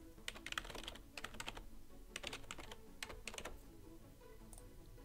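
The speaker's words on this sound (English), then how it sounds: "now type a domain name that you want." Quick bursts of keystrokes on a computer keyboard typing a domain name, crisp and close, in irregular clusters separated by short pauses, alone without talk.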